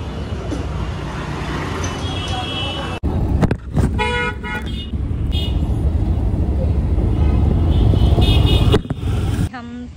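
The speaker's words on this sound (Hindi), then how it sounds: "ट्रैफिक में फंसे हुए हैं।" Road traffic where a car is stuck in a jam, a dense steady roar of engines with several car horns honking in short bursts, loud and close, with a voice briefly heard under it.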